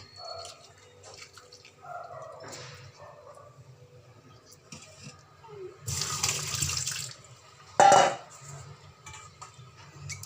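Tap water runs as soaked, cut potatoes are washed under the faucet, a low trickle that swells into a brief loud gush, then a sharp splash before settling, with no speech.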